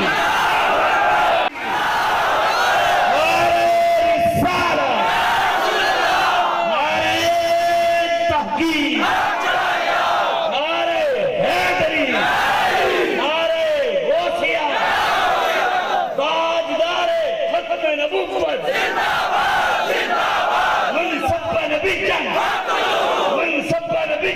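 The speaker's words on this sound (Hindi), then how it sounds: "जोरदार करना नारे तकबीर" A large crowd at a religious gathering shouts the Nara-e-Takbir slogan in loud, repeated waves of massed voices, with brief gaps between the surges.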